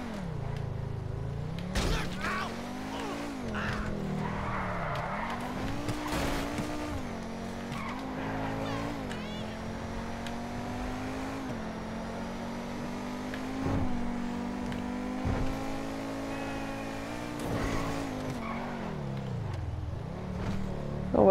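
A sports car engine in the GTA 5 video game revs and shifts through gears for about twenty seconds, with tire skids and squeals over a steady, loud drone.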